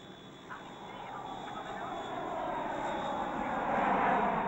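A jet airliner carrying horses to Montreal drones steadily overhead, its broad engine roar swelling gradually louder, with no voices.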